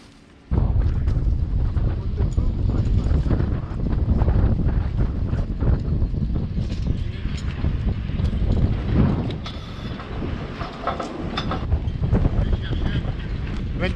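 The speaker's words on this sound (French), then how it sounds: "Quel vent!" Strong wind buffeting a microphone outdoors at a boat mooring, a loud continuous low rumble with gusty surges that starts abruptly and persists for many seconds, with faint voices buried underneath.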